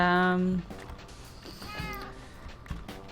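A cat meows once up close in a loud, drawn-out call, followed by quieter speech in the room.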